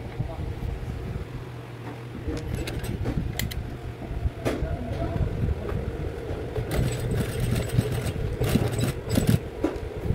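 A sewing machine stitches a round coin purse, its mechanical whirring and rattling running steadily with short clicks and creaks while someone talks over it.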